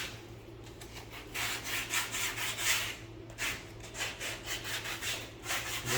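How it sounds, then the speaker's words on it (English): Sandpaper rubs back and forth along the edges of replacement HVAC foam for a Toyota Supra, a soft rhythmic scratching of repeated strokes, close and fairly quiet, with a low hum underneath. "we want to take our sandpaper, check the edges"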